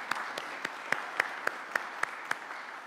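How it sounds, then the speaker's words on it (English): Rhythmic clapping rings out during a Catholic worship service in a church, roughly ten evenly spaced, distinct claps in a steady beat, clear against a quiet background. "can you give these young men and women a round of applause?"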